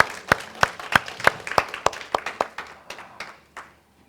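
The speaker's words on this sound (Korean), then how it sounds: "우리 하나님께 영광의 박수 한번 돌리십시다" A church congregation at Sunday worship gives applause to glorify God, heard as a series of sharp, evenly spaced unison claps, about a dozen in a row, that grow looser and fade out toward the end.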